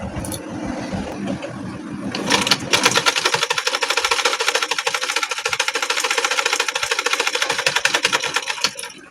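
A sewing machine stitches the back panel of a blouse, starting with low handling noise before breaking into a loud, steady, rapid mechanical whir with dense repeating needle clatter that runs close up to the end.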